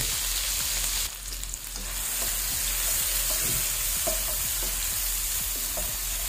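Tomatoes sizzle steadily in a hot pan as a utensil stirs and scrapes through them, producing a continuous close hiss broken by soft clinks, with no talking.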